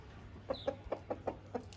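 Chicken clucking in a rural yard, a quick run of about seven soft, evenly spaced clucks at moderate distance over faint background hum.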